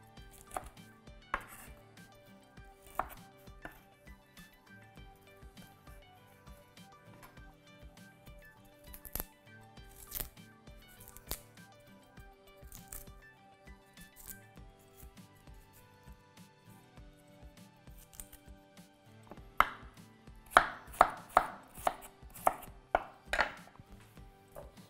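A knife chops sweet potatoes on a board, irregular taps through most of the stretch, growing into a denser burst of sharp chops near the end.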